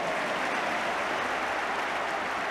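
A football crowd applauds from the stands at an Everton versus Manchester United match: a steady, dense wash of clapping that holds at an even level throughout.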